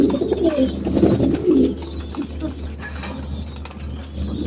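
Pigeons coo in low rolling calls and flap their wings in a loft where young birds are being settled in, close and fairly loud, fading to quieter background movement.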